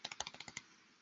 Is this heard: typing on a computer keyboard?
yes